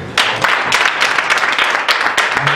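A church congregation bursts into applause and acclamation for the Lord at a youth revival gathering, a dense wash of close clapping that starts abruptly and holds loud for a couple of seconds.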